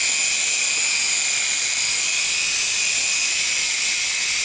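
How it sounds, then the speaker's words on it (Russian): A small drone's propellers spin steadily at low speed, giving a loud, continuous high-pitched whine and whir that holds unchanged throughout, with no talking. "дрон с пропеллерами"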